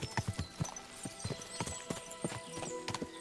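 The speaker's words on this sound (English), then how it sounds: "What a lot of horses! They must have cost a fortune." Several horses clip-clop along at a walk in the medieval role-playing game Kingdom Come: Deliverance II, hooves knocking in an uneven, overlapping rhythm, fairly close and steady, with no talking.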